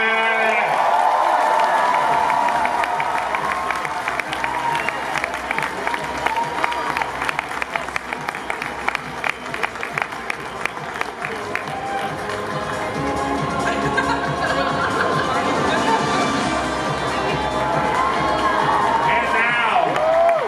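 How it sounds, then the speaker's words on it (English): A large audience at the New York Comic Con cosplay championship claps, screams and whoops for a second-place armor-category winner, a dense, sustained roar of applause and cheers throughout. "clap and scream"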